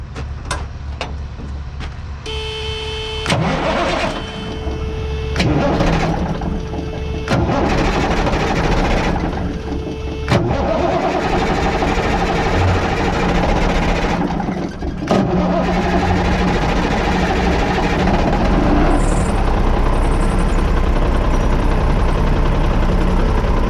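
A Cummins L10 diesel engine with a newly installed injector pump cranks in several bursts, then turns over into a loud, close, steady rumble that keeps running.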